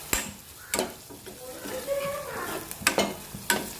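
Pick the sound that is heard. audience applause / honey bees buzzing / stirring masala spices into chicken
stirring masala spices into chicken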